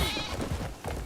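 Goats bleat in the Crimson Desert video game, a short cluster of wavering, nasal cries close by, heard alone for about a second.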